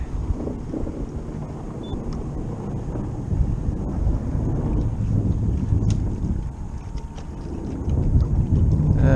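A small twin trolling-motor boat pushes against a strong incoming morning tide in a marsh, its low motor drone half buried under heavy wind buffeting the microphone.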